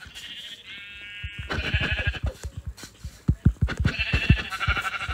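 Sheep in a video game bleating repeatedly, several wavering calls near and clear, mixed with a quick run of soft thumping footsteps.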